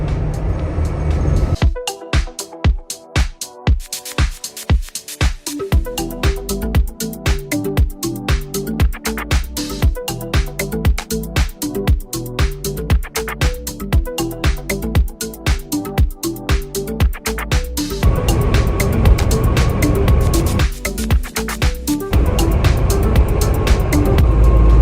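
Morning rush-hour road traffic with school buses, heard from inside a truck in Canada: a steady, loud vehicle drone runs throughout with repeated rhythmic thumps and rattles in the first part, no talking.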